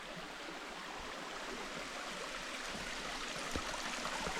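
A creek in Nightcap National Park flowing steadily nearby, a soft continuous wash of running water with no voices, faint and even throughout.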